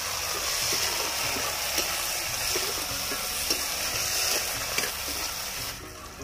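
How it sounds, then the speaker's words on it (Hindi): Tomatoes go into browned onions in a hot pan, giving a loud continuous sizzle of frying with faint stirring scrapes throughout. "प्याज ब्राउन हो गया है सब टमाटर डालेंगे"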